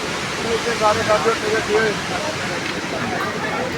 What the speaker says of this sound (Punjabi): ਆ ਦੇਖੋ ਇਹ ਨਦੀ ਦਾ ਵਗਦਾ ਪਾਣੀ